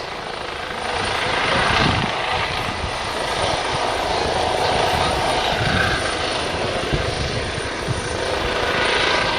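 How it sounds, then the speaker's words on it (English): A Juno HT1 helicopter's steady rotor and engine roar fills the scene at an airshow, holding loud and broad throughout with a faint thrum, gradually drawing away. "There goes the Airbus Juno HT1 from the Defence Helicopter Flying School, with Red 10 Squadron Leader Adam Collins on"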